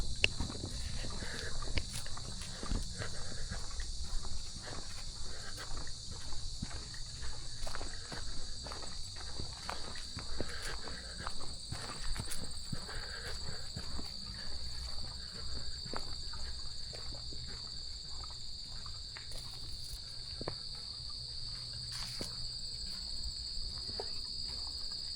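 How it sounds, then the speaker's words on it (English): Dense, high insect trilling fills a humid wooded nature path on Les Îles de Boucherville, Quebec, with soft footsteps crunching steadily along underneath throughout. "Just listen to the sound of the wildlife and the insects"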